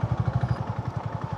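A Honda CB350 motorcycle engine thumps in a steady, rapid pulse at low revs while it edges through city traffic in Hyderabad, heard close without any talk.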